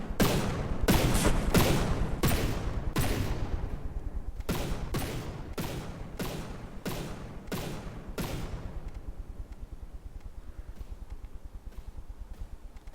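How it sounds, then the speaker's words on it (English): Ammo exploding on a warship in a naval combat video game, a rapid string of sharp, loud blasts that come in two bursts and then fade into a low, rumbling tail. "It looks like there's a fairly large explosion here in the hull or in the bow."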